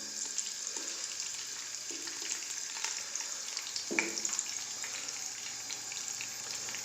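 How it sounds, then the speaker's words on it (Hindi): Chicken frying lightly in melted ghee with ginger and garlic for Chinese rice, a steady close sizzle with occasional stirring clinks and scrapes running throughout. "अदरक लहसुन के साथ अपना चिकन जो है ना हल्का हल्का फ्राई कर लेंगे"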